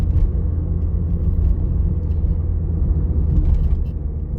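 A car drives along a road at about 45 km/h during a driving test, heard from inside as a steady loud low engine and road rumble with no talking.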